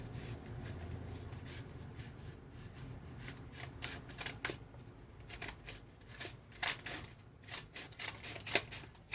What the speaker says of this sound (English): I kind of just cut in the shape of a petal